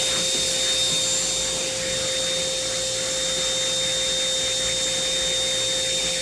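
An Atrix vacuum runs steadily and close up as it sucks up dust, a constant motor whine with a sharp high tone and no talking over it.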